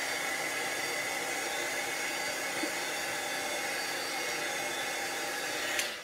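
A handheld heat tool blows steadily while drying a clear-block craft project, making a constant airy whir with a faint high whine that holds at an even level and stops abruptly near the end.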